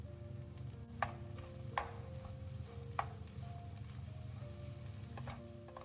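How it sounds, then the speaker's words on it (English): Fried rice with chopped scallions being tossed in a hot pan, a steady close sizzle with a few sharp clanks of the spatula against the pan. "we will put chopped scallions in and toss it"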